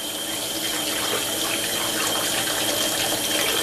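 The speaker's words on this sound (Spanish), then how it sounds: "vamos a correrlos debajo del agua para asegurarnos que están súper limpios" Tap water runs steadily from a kitchen faucet over cleaned, deveined shrimp, a continuous loud broadband splashing and hiss with no talk.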